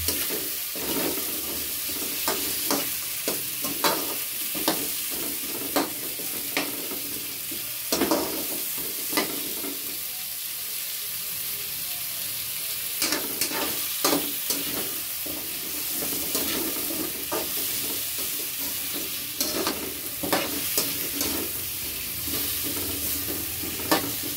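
Shrimp sautéing in a hot pan for ginataang hipon with vegetables, a steady close sizzle with repeated scraping stirs and utensil knocks throughout.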